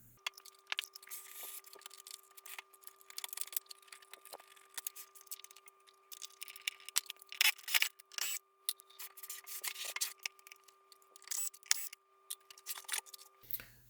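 Metal tools and screws clicking, scraping and rattling as a Mitsubishi DA-R20 stereo amplifier is opened up for STK-1060 output module replacement; close, irregular bursts of handling noise with brief pauses and no talking.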